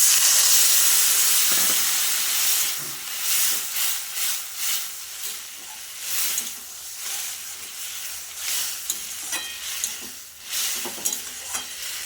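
Water poured into a hot pan of fried elephant foot yam with chilli paste, giving a steady hiss and sizzle of steam with faint stirring scrapes throughout.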